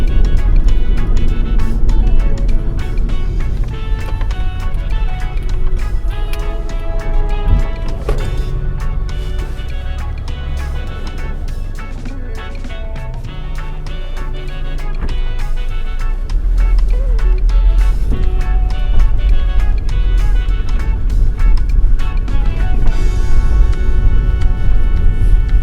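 A car driving along a bumpy country road between Porus, Manchester and Clarendon Park, Jamaica: a steady close engine-and-tyre rumble with rattles and thumps from the rough surface, music playing throughout.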